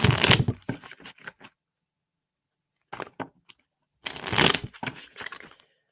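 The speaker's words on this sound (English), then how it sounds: "One more shuffle." Tarot cards being shuffled by hand at a personal reading, in three bursts of crisp papery riffling and slapping, the first and last loud and close, a brief softer patter between them after a pause.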